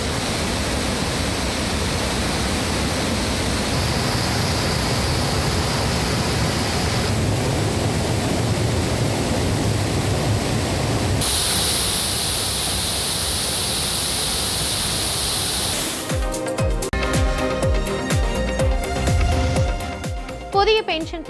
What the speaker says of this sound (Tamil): மணிமுத்தாறு அருவியில் நீர்வரத்து அதிகரித்து தண்ணீர் ஆர்ப்பரித்து கொட்டுவதால் கடும் வெள்ளப்பெருக்கு ஏற்பட்டுள்ளது